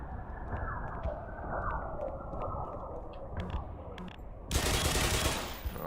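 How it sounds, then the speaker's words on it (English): Video game gunfire fired at a lock, a rapid burst of automatic shots cracking over a dense rumbling game soundscape, then a loud blast of bright noise near the end. "Well, shooting the lock doesn't do anything."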